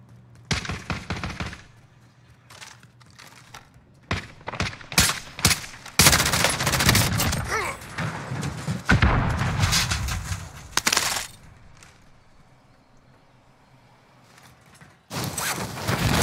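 Gunfire from a short-barrel gun without a stock in Warzone: sharp, loud bursts and rapid volleys close by, separated by quieter gaps with faint mechanical clicks and movement.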